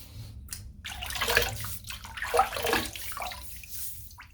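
Close running water from a tap splashes unevenly as a shaved head is wet before a shave, a moderate steady wash with fluctuating splashes and no talking.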